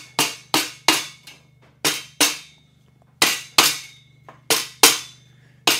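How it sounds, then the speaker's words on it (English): Rubber mallet tapping a part of an Evolution Rage 5S table saw during assembly, about a dozen sharp, close knocks in uneven pairs and singles with a low hum underneath and no talking. "give it a few taps with a rubber hammer, rubber mallet if you've got one"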